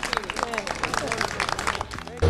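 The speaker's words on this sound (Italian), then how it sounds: "Vogliamo fare un applauso?" A festival table of diners at the Stocco celebration in Cittanova gives a short burst of clapping, close and lively, with chatter mixed in before it stops abruptly.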